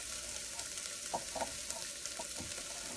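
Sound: butter melting and sizzling in pot

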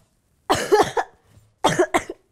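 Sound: cough

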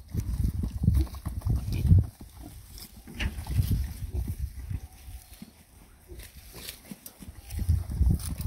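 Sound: pig grunting

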